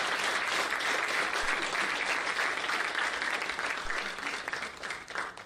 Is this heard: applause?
yes